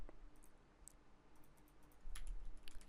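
Sharp clicks of a computer mouse at a desk, a few separate taps spaced across the moment, close and fairly quiet over a faint room hum.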